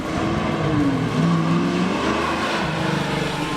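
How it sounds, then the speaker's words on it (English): Ford Boss 429 big block V8 engine revving, a loud close rumbling idle that swells and drops in pitch through a couple of throttle blips, with no voices over it. "Next is a big block Ford engine, a very special one called the Boss 429."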